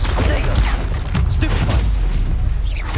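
Bombarda, an explosive spell in Hogwarts Legacy, erupts as a loud, dense blast. The rumbling, crackling roar fills the whole moment without a break and sits over quiet game sound.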